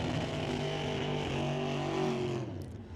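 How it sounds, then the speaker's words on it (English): Chevy II and Camaro drag racers accelerate hard through the gears, a loud sustained engine roar with harmonic whine that holds steady then drops away near the end as the cars pull off. "Is again jamming through the gears in both the Chevy 2 and the Camaro"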